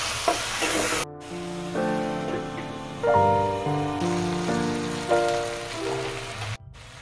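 Pasta sauce with soy sauce being stirred in a pan gives a steady low sizzle and faint stirring, largely masked by a melodic background tune that runs through the whole stretch.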